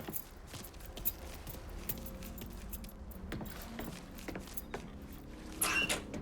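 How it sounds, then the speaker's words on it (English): Keys jangle and clink in the Mafia III video game. The light metallic rattles run steadily through the clip over a low background rumble and grow louder near the end. "Hey, man, grab those keys."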